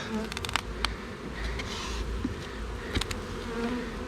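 Honeybees buzz close and steady during a hive inspection, a dense insect drone with a few sharper wingbeat bursts, and no one talks over it.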